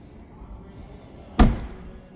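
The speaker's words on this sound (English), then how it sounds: "let's shut the door" The door of a 2026 BMW X6 xDrive40i swings shut with a single solid thud, close by, over quiet background.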